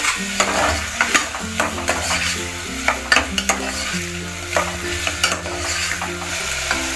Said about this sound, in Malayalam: രണ്ട് പച്ചമുളക് നന്നായിട്ടൊന്ന് വഴറ്റി കൊടുക്കാം